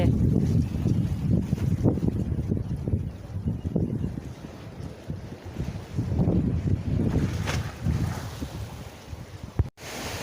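Wind gusts buffet the microphone at the far end of a pier jutting into the sea on a hot day at Ban Na San beach, Hua Sai, with faint surf beneath, steady rumbling throughout and no talk.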